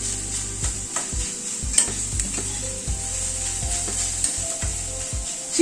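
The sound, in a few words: frying shredded chicken with onion, ginger, green chili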